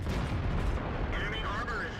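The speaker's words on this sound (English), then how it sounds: "artillery is finally taking a swipe at me." Artillery fire in World of Tanks lands around a Leopard 1 tank as a dense, rumbling roar of blasts and engine noise for two seconds, with a faint whistling tone rising near the end.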